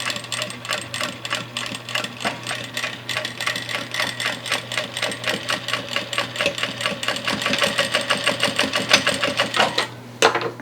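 A Vevor industrial sewing machine stitches elastic onto baby bloomers, a steady rapid mechanical chatter of needle strokes running for about ten seconds, briefly pausing near the end before resuming.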